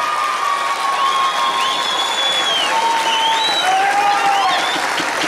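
A large crowd at a bull-riding tournament applauds steadily, with scattered cheers and whistles rising over the continuous clapping.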